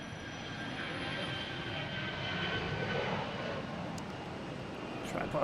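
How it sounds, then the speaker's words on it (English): A jet airliner taking off at Boston's Logan Airport, a steady distant engine roar that swells slightly mid-way and stays under a faint background, heard from some distance. "We got a couple takeoffs here."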